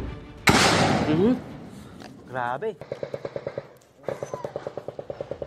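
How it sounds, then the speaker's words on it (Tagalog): Gunfire in an armed clash between soldiers and suspected New People's Army rebels in Dipaculao, Aurora: a loud burst and rumble, then rapid evenly spaced automatic shots in two strings, with a brief voice and an engine-like whine between. "Barinig ang sunod-sunod na putok"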